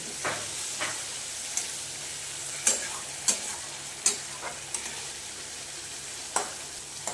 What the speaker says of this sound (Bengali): এইবারে বন্ধুরা এই টমেটোটা দিয়ে ভালো করে কষে নেব।